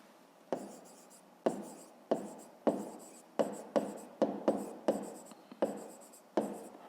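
A pen writing by hand on paper during a fifth-grade maths exercise, heard as a string of sharp close scratching strokes in an irregular rhythm, without speech.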